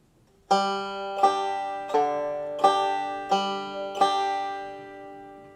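A banjo plays the "I'll Fly Away" verse as six evenly spaced pinches alternating with open strings, each bright plucked attack ringing and decaying, close and clear with no talking.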